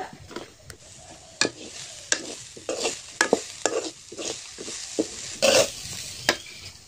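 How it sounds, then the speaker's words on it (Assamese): Grated coconut is being stirred and heated in a pan for sesame pitha, with a rhythmic series of close scraping strokes of a spatula against the pan, each a short, sharp scrape. "মই এতিয়া নাৰিকল ভাজি আছো"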